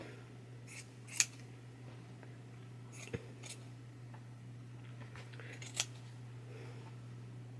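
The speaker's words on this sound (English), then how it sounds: "Again, with your sharp scissors," A few sharp, crisp snips of scissors cutting felt, spaced a couple of seconds apart over a steady low hum, with no one talking.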